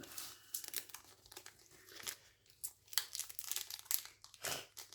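Crinkling and tearing of a Pokémon card booster pack's foil wrapper as it is ripped open, a run of close, sharp rustles and rips lasting several seconds with no talk over it.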